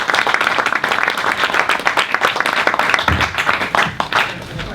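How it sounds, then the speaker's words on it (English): Audience at a Conservative Conference education panel applauding, dense sustained clapping from a room full of people lasting several seconds. "So thank you very much to the panellists and for yourselves for coming along,"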